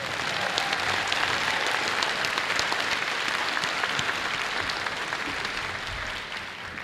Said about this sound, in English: I invite your applause to these hardworking people